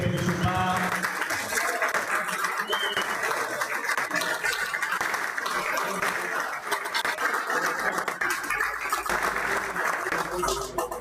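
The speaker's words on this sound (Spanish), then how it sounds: "Un fuerte aplauso para el equipo del Pedesub A." A crowd at a Galician club spearfishing championship gives the Pedesub A team sustained applause, dense clapping from many hands that carries on evenly for several seconds with a few voices mixed in.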